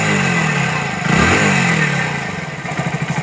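A Hero HF 100 BS6 motorcycle with an injector cap problem revs up close by, its engine note climbing sharply then settling into a pulsing, throbbing idle with no talk over it.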